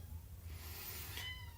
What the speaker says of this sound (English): That sounds like a sad kitty.